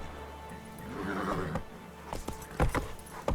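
Roach, a horse ridden in The Witcher 3: Wild Hunt, gives a close whinny followed by a few hoof clops and snorts, fairly quiet against a low ambient background.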